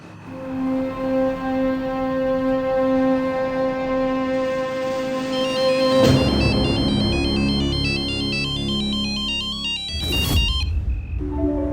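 A melodic phone ringtone plays loudly and repeatedly, its tune shifting partway through, with a short burst of noise near the end.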